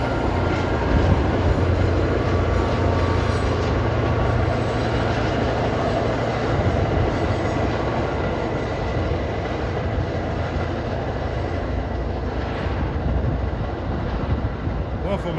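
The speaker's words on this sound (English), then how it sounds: "That's train 191 bound for Beverly, crossing over the Mystic River with a cheap 40 MC." Commuter rail train crossing a bridge over the Mystic River, a steady loud rumble and clatter of wheels on the span that continues throughout, with a lower engine drone in the first half.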